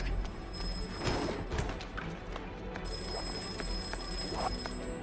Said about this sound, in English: Hear the phone.